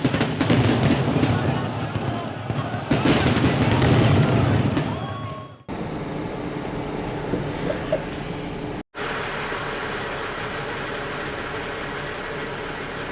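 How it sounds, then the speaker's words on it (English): Fireworks display at Niagara Falls, evening, a dense, continuous rumble of bursts and crackles that fades down partway, then settles into a steadier, quieter roar of distant booms and crowd noise. "A YouTube user pointed out the upcoming fireworks to me in the evening."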